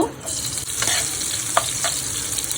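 Oil and onion frying in a pan for a Bangladeshi home-cooked dish, a steady close sizzle with a few stirring clinks and scrapes, no talk.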